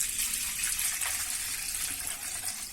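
Tap water runs steadily into a vessel while rice is washed in a home kitchen, a continuous splashing hiss at moderate level with no talk.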